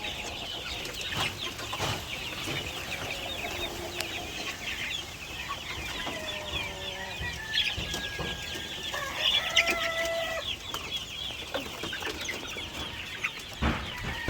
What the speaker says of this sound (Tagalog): yung mga babae nating sisiw. First batch, second batch, dito natin inilagay.